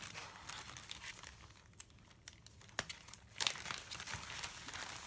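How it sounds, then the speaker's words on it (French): Bubble wrap crinkling in quiet bursts while packing a small ring, with a few sharper crackles and pops as it is handled and folded close by. "Et dans du papier bulle toujours."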